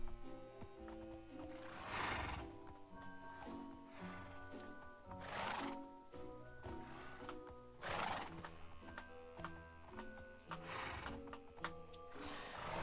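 Horses in the Minecraft video game neigh and whinny in repeated bursts about every two seconds, over a soft clip-clop of hooves, clear and fairly close with no talk.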